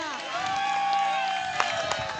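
A crowd at a cricket premier league prize distribution cheers, with sustained shouting and whooping voices, a few scattered claps and a sharp clap at the very end.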